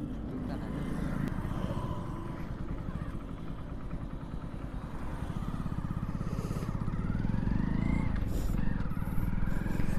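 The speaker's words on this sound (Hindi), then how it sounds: "बाकी इंजन वगैरह का साउंड एक नंबर है" Hero Splendor BS6 motorcycle engine running on the road, a steady mid-pitched drone mixed with heavy wind rush throughout, building slightly toward the end.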